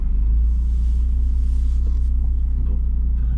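A Mini JCW engine drones loud and close from inside the cabin, a steady deep rumble under acceleration with a slight dip around mid-clip as the gear changes, then pulling on evenly.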